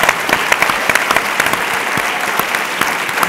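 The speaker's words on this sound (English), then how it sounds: "Join me in applauding Speaker Craddock." Applause from a large audience at a Texas policy conference, loud, dense clapping from many hands filling the room with no speech over it.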